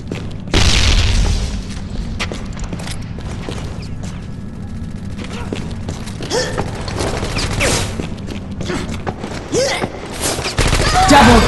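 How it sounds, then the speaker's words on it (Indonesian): A frag grenade blast and gunfire in the online shooter Mercenary Online during a clan war match, with a loud boom at the start followed by dense continuous firing and rumbling, then a heavy burst of shots at the end. "Throwing frag!"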